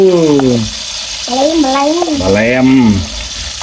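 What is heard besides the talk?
coconut grubs frying in oil with fish sauce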